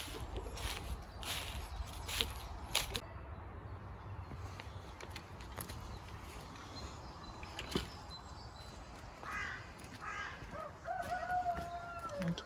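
A blue golden-laced partridge rooster crows in a poultry breeding pen, its call rising near the end over a background of clucking, rustling and other fowl, moderately close.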